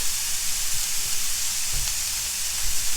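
Super thick pork chops sear in a hot skillet, a steady broadband sizzle with a few soft low thumps and pan clatter, close and continuous with no talking.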